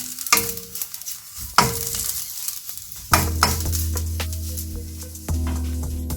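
Okra cooking uncovered in an open pan for a yogurt curry makes a close sizzle and sputter, with sharp utensil knocks and stirring scrapes punctuating it and hissing bursts that swell at intervals.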